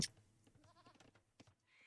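Sheep bleat in a video game match, a short burst or two standing out over faint game sounds and clicks, quiet overall.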